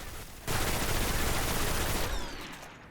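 Hexcaster Arc weapon firing in Destiny, a dense sustained burst of loud gunfire lasting about a second and a half after a brief lead-in, then tailing off with a fading echo.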